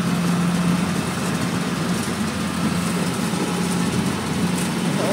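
A rice harvesting machine's engine running in a paddy field in the provinces, a continuous loud droning hum with steady mechanical rumble throughout, no talking.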